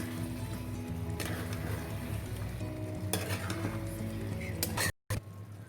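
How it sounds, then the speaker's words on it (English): A spoon stirs chicken tikka masala in a frying pan, scraping and sizzling steadily up close, with a few sharper clatters and a brief dropout near the end. No one speaks. "Let's give it a good mix."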